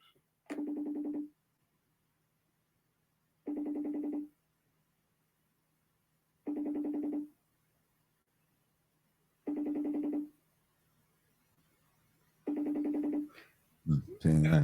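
A telephone call to a wife rings on the line: five evenly spaced ringback tones, each close to a second long and about three seconds apart, steady and moderately quiet, before a voice cuts in at the end.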